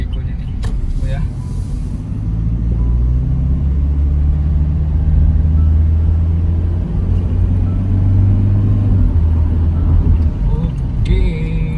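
A 2021 Toyota Innova facelift accelerates hard with eco mode switched off, its engine a deep, continuous rumble heard from inside the cabin that holds steady and swells slightly throughout.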